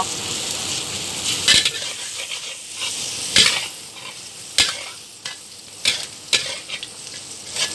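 Thai cha-om omelette of beaten egg and acacia shoots frying in hot oil in a pan, with a steady loud sizzle broken by sharp scrapes and clinks of a utensil stirring against the pan.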